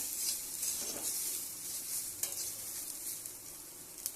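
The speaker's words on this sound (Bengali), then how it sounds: "আলুটা ভাজা করে নামিয়ে নেব" Potatoes fry steadily in hot oil, a constant crackling hiss with an occasional stir, no talk.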